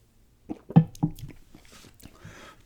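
Close, soft gum chewing, with a few moist, crunchy chews clustered in the first second and fading quieter afterwards.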